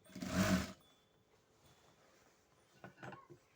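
A sewing machine runs in one short, loud burst while stitching a dress lining, followed by near silence and then a few soft clicks and taps.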